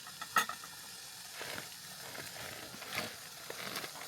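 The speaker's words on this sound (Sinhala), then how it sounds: "වතුර ටික හොඳට නටනවා" Water at a rolling boil in a pot for cooking pasta gives a soft, steady simmering hiss broken by scattered bubbling pops and a few sharper clinks, fairly quiet and close.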